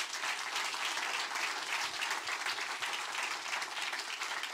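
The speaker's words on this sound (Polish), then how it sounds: "wielkie brawa także dla was" Sustained audience applause fills a meeting hall with Szymon Hołownia in Piła, dense steady clapping from many hands with no break and no talk over it.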